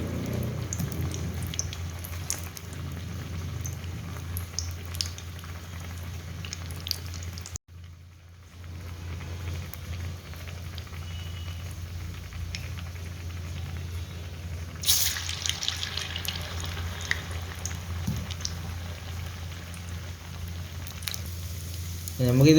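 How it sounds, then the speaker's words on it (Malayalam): Urad dal medu vadas, Kerala tea-stall style, deep-frying in hot oil, a continuous soft bubbling sizzle with occasional drips and clatter, one brief sharp break midway. "നമുക്കിത് ബ്രൗൺ കളർ ആകുന്നത് വരെ ഫ്രൈ ചെയ്തിട്ടെടുക്കാം."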